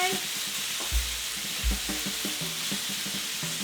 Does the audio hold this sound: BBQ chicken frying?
yes